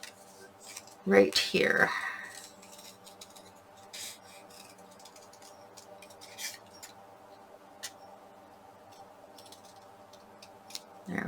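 Scissors snip through paper while a scrapbook circle layout is trimmed, with a close, sharp cutting burst early on, then faint scattered ticks and handling noises over a quiet background. A voice speaks briefly.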